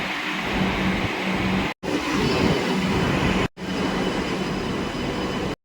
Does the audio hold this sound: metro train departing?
yes